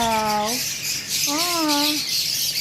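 A parrot in a pet shop gives two drawn-out, nasal calls, one short and one longer, close by with shop hiss behind them.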